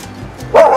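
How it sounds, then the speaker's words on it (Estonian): A dog in Orizaba, Mexico, near the riverside zoo grounds, lets out a single loud, close bark after a brief quiet moment. "Mingi Perro tuli mul siin vastu hakkas aukuma"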